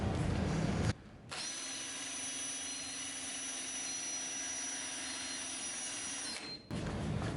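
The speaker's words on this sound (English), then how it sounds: "We're going to spin this up with the drill at the highest speed that we can get" A power drill spinning a generator whirs at its highest speed with a steady, whining hum for several seconds, starting and stopping abruptly.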